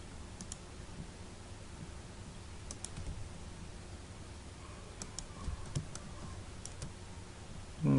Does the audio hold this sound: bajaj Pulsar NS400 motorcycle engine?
no